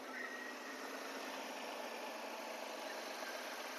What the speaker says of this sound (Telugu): వెహికల్ స్టార్ట్ చేయడం జరిగింది.